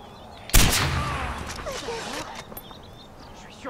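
A single loud, close sniper rifle shot cracks out in Far Cry 4, followed by a decaying echo and scattered distant game sounds, with someone talking over it.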